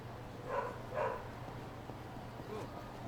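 A dog in the video game Yakuza Kiwami 2 gives two short barks close together, followed by a faint yip, over a low steady background hum.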